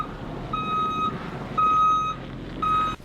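A moving truck backing up, its reverse alarm sounding three loud, evenly spaced electronic beeps over a low engine rumble, with no talk.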